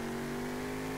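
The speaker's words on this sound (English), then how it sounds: "I just over revved that" Lexus SC300 engine over-revving in the SLRR drifting game, a brief steady high-pitched tonal drone at sustained high rpm, heard alone and fairly faint.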